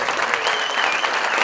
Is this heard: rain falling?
no